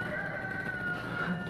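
A chicken crows in a drawn-out, tonal call that carries steadily through the moment against a faint background hum, with no talking.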